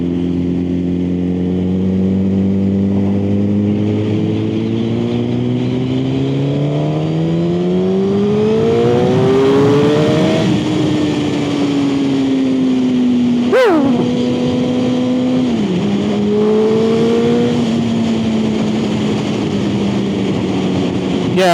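A motorcycle riding the A388 road between Tamar Bridge and Callington, with a loud close engine rising steadily in pitch under acceleration, then easing off and settling into a steady drone, with wind noise throughout.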